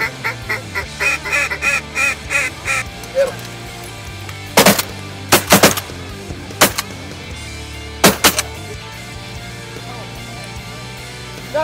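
Geese honk in a steady run of repeated calls during a duck hunt at Honey Brake, followed by several sharp, loud bursts in the open marsh.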